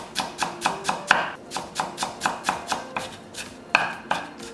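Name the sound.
knife slicing onion thinly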